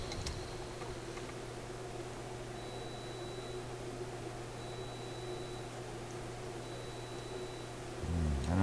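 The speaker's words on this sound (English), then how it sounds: "I don't know if you could hear that beeping right now. That's my coffee maker" Three faint, short electronic beeps sound at even intervals over a steady low hum in a quiet room.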